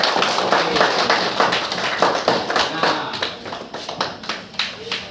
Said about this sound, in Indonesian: ya, tepuk tangan buat.